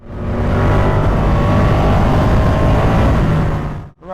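A Ducati motorcycle engine revving while being ridden, a loud, close, continuous roar with wind rush that holds steady for several seconds before briefly dipping at the end.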